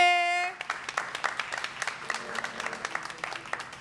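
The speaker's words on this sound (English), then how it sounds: "please give a round of applause for the Boston Public Library." An audience at a Boston poetry event applauds for the Boston Public Library, sparse, uneven claps from a modest crowd, heard nearby after a brief sustained tone fades out.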